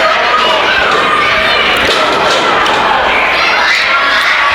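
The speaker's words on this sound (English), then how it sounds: "This crowd has not settled down since Scott Stallion came into the gym." A wrestling crowd in a gym roars without pause at a main event, a dense, loud wash of cheering and shouting that stays steady throughout.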